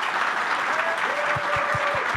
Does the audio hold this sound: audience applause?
yes